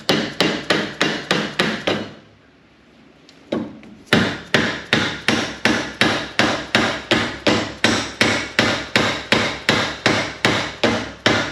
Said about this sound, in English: I'll take the other dead blow hammer. This has sand inside of it, so it's not a normal hammer.